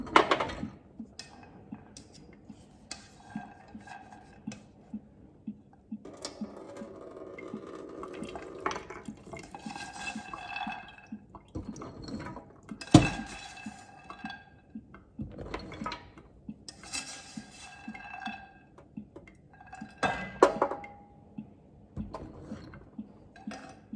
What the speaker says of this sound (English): we're just going to scoop the rest of that in, draining off as much as we can